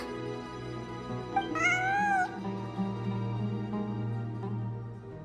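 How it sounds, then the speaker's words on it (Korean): A single drawn-out cat meow in the video game Genshin Impact rises and wavers over a steady droning musical background, fairly clear and close, with no talking. "진짜 고양이야"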